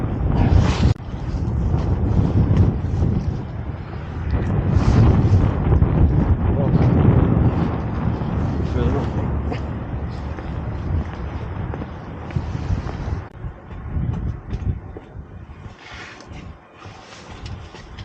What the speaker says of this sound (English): it's getting really cold and windy now